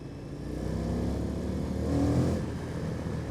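A Triumph FTR 1200 S motorcycle rides along with a steady engine drone that swells slightly as it pulls, heard moderately loud under wind rush.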